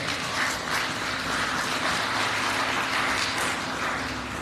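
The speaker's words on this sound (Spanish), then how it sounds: "Usted lo cree, le pone un aplauso al Señor." A church congregation applauds during a Spanish-language sermon, a dense, continuous wash of clapping that stays loud and steady from start to finish.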